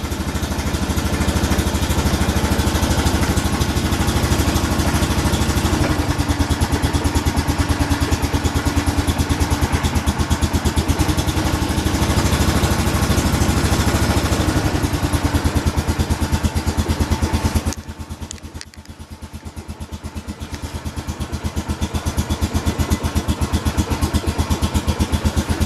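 A Honda Foreman ATV engine runs on a cold morning after a cold start, idling loudly and close with a rough, steady chug for most of the time, then it dips briefly and builds back up.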